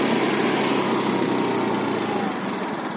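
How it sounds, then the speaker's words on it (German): A small, restricted 2-horsepower motor scooter engine runs steadily up close, a high buzzing drone with no pauses and no voices. "Ich liebe diesen Roller."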